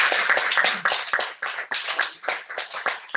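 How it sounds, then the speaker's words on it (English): A conference audience applauding after a series of oral presentations, a dense, steady patter of many hands clapping with an uneven rhythm, fairly close and alone without talk. "So a big round of applause for everybody."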